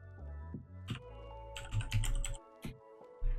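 Close, crisp keyboard typing as code is entered in a Shopify store editor, a few isolated key presses followed by a rapid cluster of clicks and a couple of final firm taps, no talking.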